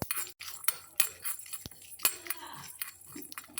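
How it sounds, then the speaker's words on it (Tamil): Light metallic clinks and scrapes of a spoon stirring whole cumin, dried chillies, peppercorns, a lump of asafoetida and coriander as they dry-roast in a small pan, with scattered sharp taps and no talking. "இதில் சீரகம், மிளகாய், மிளகு, இந்தளவுக்கு கட்டி பெருங்காயம், கொத்தமல்லி இதெல்லாம் வறுத்துக்கலாம்."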